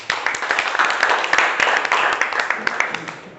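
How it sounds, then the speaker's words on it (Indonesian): Students in a classroom clap for a classmate's correct answer, a brief burst of quick, uneven hand claps close by, loud at first and thinning out toward the end. "Ayo kita berikan tepuk tangan."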